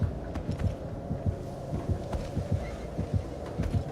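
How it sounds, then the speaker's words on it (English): Heartbeat sound effect in a horror video game, a steady, deep, throbbing double thump repeating at a regular pace over a low droning hum. "And there's even the sound of a heartbeat."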